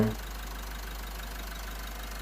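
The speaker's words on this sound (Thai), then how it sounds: "เครื่องยนต์เป็นเครื่องยนต์ดีเซล 2L Turbo นะครับ เครื่องดีไม่มีไอไม่มีควัน" A 1997 Toyota Mighty X pickup's 2-litre turbo diesel engine idles steadily with a low, even rumble and faint knocking clatter, close by and unchanging throughout.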